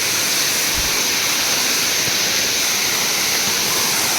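A hidden waterfall on a laterite plateau in the Konkan region roars as a loud, steady, broadband rush of falling water, close and unbroken, with no voices.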